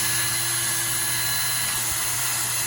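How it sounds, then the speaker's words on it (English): A power drill whirs continuously and loudly while pre-drilling the sides of pallet boards, a steady motor whine holding an even pitch for the whole stretch. "I'm going to take some of these boards and pre-drill them on the sides as well."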